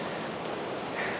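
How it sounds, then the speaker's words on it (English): Ocean waves crashing on a beach at a free offgrid campsite, a steady broad wash of surf with a slight swell near the end, moderately loud and alone with no voices. "Those waves crashing, it's just been unreal."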